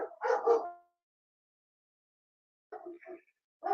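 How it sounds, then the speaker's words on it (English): Dogs barking and yipping indoors during a snowed-in livestream, a couple of short close bursts separated by silence. "I don't know if you could hear my dogs in the background"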